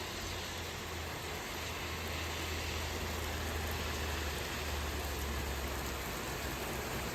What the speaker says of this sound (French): Il y a de belles pluies, hein.